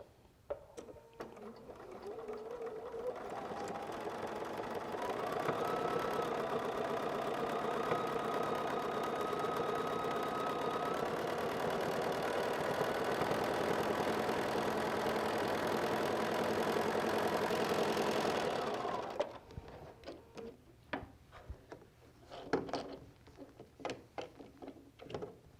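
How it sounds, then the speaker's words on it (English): A sewing machine runs a steady stitching line along the edges of a quilt, a continuous whirring hum for about fifteen seconds up close, then stopping and giving way to soft handling clicks and rustles. "we're going to come over to the sewing machine. And we're going to stitch 1/8 of an inch on both edges"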